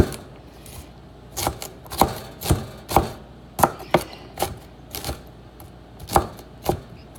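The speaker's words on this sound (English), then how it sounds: "take like 3 or 4 pieces and then just cut it, and then you're going to chop it" Pieces of food are chopped with a knife on a board in about a dozen crisp, irregular strokes, close and clear over a quiet kitchen background.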